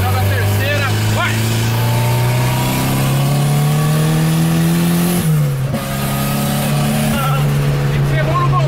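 A Volkswagen Gol turbo engine revs loudly and steadily while driving, its pitch climbing then dropping briefly before rising again, with people talking over it inside the car.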